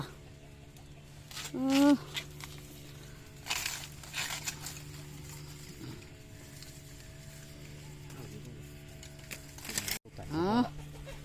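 Chickens cluck in short bursts amid a low steady hum, with a louder squawk near the start and another close to the end, alongside faint rustling.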